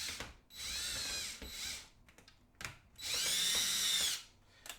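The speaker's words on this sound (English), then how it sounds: "we're gonna start with this drill bit" Power drill with a bit running in two sustained bursts of high, whining spin separated by a short pause with a few clicks, close and fairly loud, no voices.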